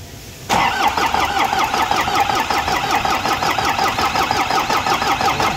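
An overheated engine cranks and catches, then settles into a loud, steady rhythmic running close by.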